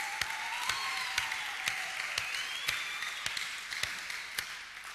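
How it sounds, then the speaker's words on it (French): A church congregation applauds for Jesus during a New Year service, steady crowd applause with sharp individual claps standing out and a faint voice or sung tone drifting underneath. "Est-ce qu'on peut encore acclamer pour Jésus?"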